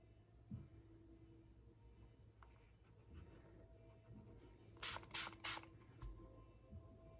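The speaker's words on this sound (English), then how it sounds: "spray a little bit more dark purple with water" Three quick hissing spritzes from a spray bottle misting dark purple ink with water, close and fairly loud, following quiet handling noises in an otherwise still room.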